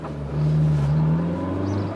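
A car engine revs briefly close by, a throaty exhaust rumble that swells quickly and then settles to a lower steady growl.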